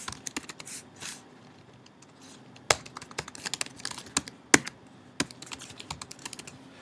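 Details being typed on a computer keyboard while setting up an account, with soft, irregular clusters of key clicks and a few sharper, louder keystrokes, close by and with no talking.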